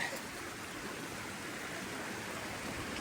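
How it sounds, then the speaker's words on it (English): Creek flowing at a stream crossing on a hiking trail in the Teanaway region of Wenatchee National Forest, a steady broadband rush of water, close and constant with no talk over it. "2/3 of a mile in, we have stream crossing number 2."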